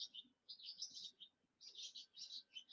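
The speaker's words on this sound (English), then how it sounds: "And there's a bird right outside the window." A small bird chirps just outside a window on a Kansas farm, two quick bursts of high twittering notes, faint and slightly distant.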